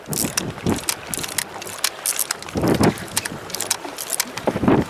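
A Chinese-made fishing reel is wound aboard a boat at sea, its ratchet giving off close, loud bursts of rapid clicking in uneven spurts, with wind and water noise behind.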